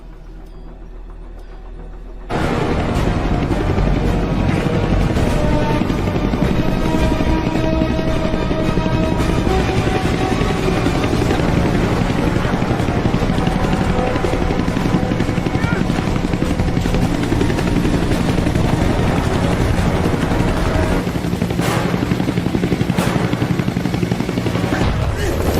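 Helicopter in an action movie scene, its rotor roar kicking in abruptly and thundering on continuously, mixed with bursts of gunfire and tense dialogue over the din.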